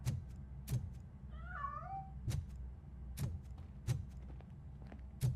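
A cat in RoboCop: Rogue City gives a short, wavering meow midway through, heard between slow, heavy, regularly spaced footsteps, with no voices.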